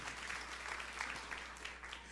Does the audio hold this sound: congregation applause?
yes